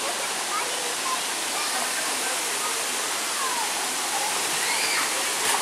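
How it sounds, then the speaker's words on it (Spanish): A creek flowing through the Barranca de Chapultepec ravine in Cuernavaca, Morelos, heard as a loud, constant rushing wash of water close by. "Vemos cómo el arroyo sigue su cauce."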